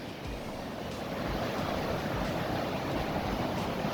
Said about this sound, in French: Là, la petite cascade là-bas.